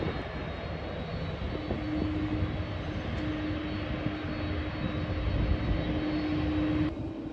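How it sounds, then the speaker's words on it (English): An Emirates Boeing 777 airliner arriving at Birmingham Airport from Dubai gives a steady, moderately distant jet engine roar with a faint whine, holding even throughout and slightly swelling toward the end, no talk. "There's the Emirates 777 in from Dubai."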